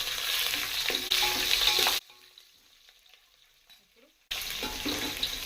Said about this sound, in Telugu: ఇప్పుడు ఉల్లిగడ్డ వేసుకోవాలి. ఇది కలుపుకోవాలి కొంచెం.